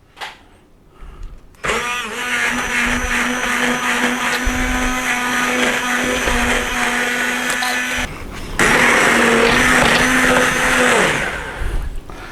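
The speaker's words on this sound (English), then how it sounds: "I'm going to blend it down but leave a little bit of texture" A blender runs loud and steady, whirring through tomato soup for about six seconds. It cuts out briefly, then revs up again at a higher, harsher pitch before stopping.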